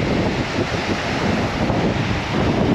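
Strong wind on a Southbourne beach in Dorset buffeting the microphone in a loud, steady roar, with surf washing faintly beneath and no voices.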